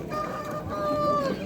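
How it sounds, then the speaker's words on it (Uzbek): Jersey Giant roosters call at a busy poultry market, with drawn-out crowing and clucking tones rising above a continuous background murmur of the crowd. "mana jersilarning o'ta dadil xo'rozlari chiqibdir"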